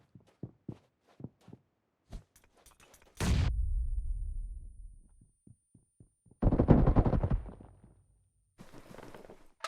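Gunfire in the PUBG Mobile battle royale game: several short sharp shots near the start, then two long sustained bursts of automatic fire, fairly loud, with a few scattered single shots between them.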